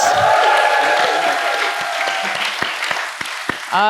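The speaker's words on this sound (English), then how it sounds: "let's give them a big round of applause" Audience applause fills the room at the close of an introduction at a live talk event, a steady loud wash of clapping with some sharp individual claps standing out and a trace of voices beneath.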